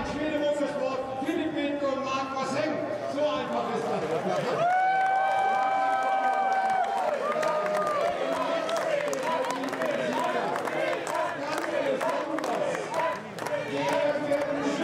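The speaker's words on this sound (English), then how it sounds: "Good to hear a boisterous crowd beneath the podium" A lively crowd cheers and claps beneath the podium at a GT4 European Series race at the Nürburgring, a sustained roar with whoops and applause, and a commentator's voice talks over it at times.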